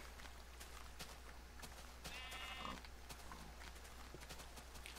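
A sheep in the Minecraft video game gives a single short bleat midway, heard over a steady low hum and scattered soft clicking game sounds.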